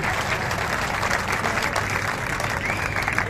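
Loud, sustained applause from a large crowd at a rally lecture in Jaipur, dense clapping filling the whole stretch without pause.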